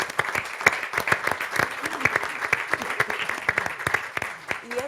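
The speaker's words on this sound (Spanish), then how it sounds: "Un aplauso." A university audience at a rector candidates' debate applauds, dense steady clapping from many hands filling the room at close to moderate distance, with a voice faintly underneath.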